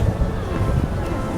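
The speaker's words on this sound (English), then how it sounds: "Man, it's windy." Strong wind gusts blow beside the river in downtown St. Charles, buffeting the microphone with a steady, loud, low rumble through the whole short stretch, with no voices.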